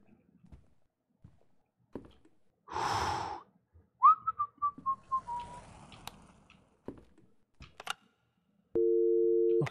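A telephone busy signal sounds near the end of a quiet horror video game scene, a loud steady tone after scattered breaths, a gasp and a brief whistle-like call.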